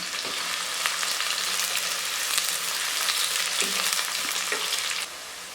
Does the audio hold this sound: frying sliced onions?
yes